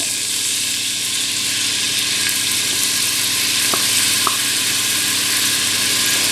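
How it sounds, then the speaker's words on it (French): Finely chopped onions frying in olive oil in a pot give a loud, steady, close sizzle with no break and a couple of faint clicks from the pot partway through. "Je mets des oignons coupés très finement."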